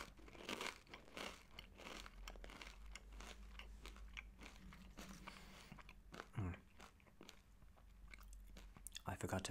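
Crisps being bitten and chewed close to the microphone, with repeated sharp crunches, crinkling and soft chewing between bites, quiet and intimate in tone.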